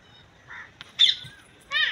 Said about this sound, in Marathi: तुम्हाला दाखवते इथे पोपट येतात.